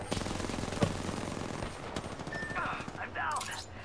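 Rapid automatic gunfire rattles in an online ranked video game, with sustained bursts under game sound effects and a player's voice talking over the action.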